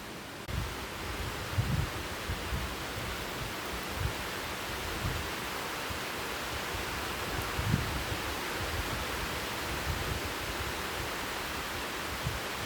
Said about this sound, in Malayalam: നല്ല കാറ്റാണ് കേട്ടോ, നല്ല കാറ്റ്, നല്ല മഴയാണ്